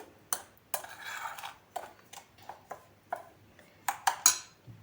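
A spoon stirring cocoa and sugar in a bowl, a run of quiet scraping strokes and light clinks against the sides in an uneven rhythm, close by with no voices.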